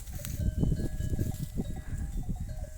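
A flock of sheep grazes on a highland pasture, with close, low shuffling and thudding and a few ringing bell tones above, at a moderate, steady level and no talk.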